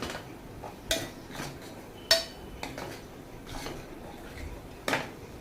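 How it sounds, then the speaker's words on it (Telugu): Spoon scraping and clinking against a cooking pot while palak paste is stirred, a few sharp taps and scrapes spaced irregularly over a quiet background, close and moderately faint. "చూడండి, ఇప్పుడు మొత్తం మిక్స్ అయ్యేలాగా కలుపుకుంటున్నాను"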